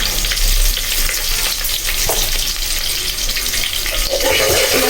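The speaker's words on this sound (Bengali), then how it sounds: "ভালো করে ভেজে নিব।" Stinging catfish fry in a pan with a loud, dense, continuous sizzle close up, the hiss holding steady for the whole stretch with no talking.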